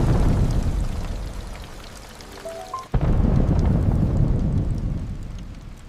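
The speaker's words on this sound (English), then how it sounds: "Rain is starting!" A sudden downpour with thunder: a loud, continuous rush of rain and low rumbling, broken by a brief rising tone and a sharp cut before the heavy rain picks back up.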